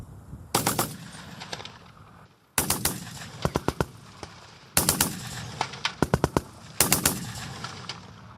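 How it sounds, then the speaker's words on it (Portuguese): Bursts of Browning machine-gun fire during Ukrainian 115th Brigade training, four separate volleys of rapid, sharp cracks, each trailing into open-air echo, with short pauses between. "praticando sua habilidade com disparos da metralhadora Browning"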